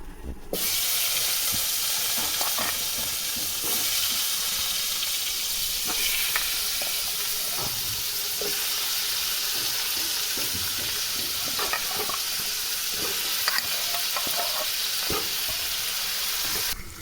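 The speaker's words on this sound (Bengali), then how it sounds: "এরপরে পটল আলু ভাজা হবে" Steady sizzling of potatoes and pointed gourd frying in hot oil, with occasional stirring clinks and scrapes throughout, close and continuous.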